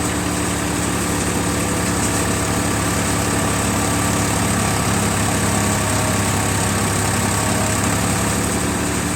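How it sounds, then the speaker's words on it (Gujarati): A tractor engine running a Param thresher on mustard drones loudly and continuously up close, its steady pulsing hum holding nearly constant throughout, with faint machinery clatter mixed in. "ટ્રેક્ટર કેટલા આરપીએમ ડ્રોપ કરે છે તમે જોઈ શકો છો"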